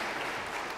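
A church congregation applauding for Jesus, a soft, dense wash of clapping heard from some distance, brief and fairly quiet.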